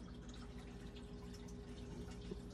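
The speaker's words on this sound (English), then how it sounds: "Look at the drip rate," Slow water dripping during drip acclimation of newly arrived saltwater fish, a faint, steady trickle of drops under a low background hum with no talking.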